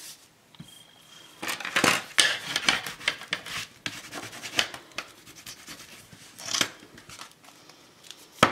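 Scissors trimming paper on the back cover of a baby photo album, a run of dry snipping and rustling cuts at close range with uneven bursts, no talking.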